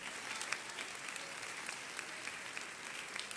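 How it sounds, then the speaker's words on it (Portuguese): A church congregation claps together in a steady, sustained round of applause, fairly distant and even throughout. "Pode aplaudir."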